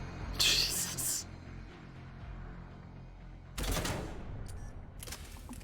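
Bursts of rapid gunfire from a weapon in Mass Effect 3, one volley early on and a louder burst later with a short trailing shot, separated by a steady low game background hum.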